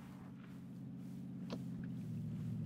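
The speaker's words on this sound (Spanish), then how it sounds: "Coche, me atropella." A car drives in the battle royale video game PUBG, a low steady engine rumble that grows slightly louder, with a couple of brief sharp knocks over it and no talking.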